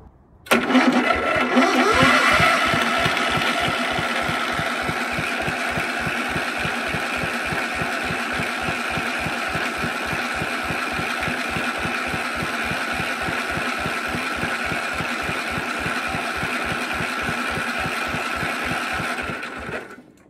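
A Lister LT1 engine cranks over and catches, then settles into a steady, rapid single-cylinder chugging idle that runs loud and even for about twenty seconds, close by with no voices.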